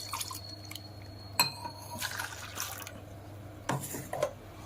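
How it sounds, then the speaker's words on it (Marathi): A little water swirled and splashed in a pot to rinse it in a home kitchen, quiet drips and sloshes with a few sharp clinks of the vessel. "थोडंसं पाणी टाकून धुवून घेते।"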